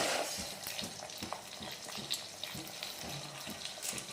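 Coriander seeds sizzling and crackling steadily in a hot pan for Telugu non-veg curry, with soft stirring scrapes and small pops throughout, close and continuous with no talk.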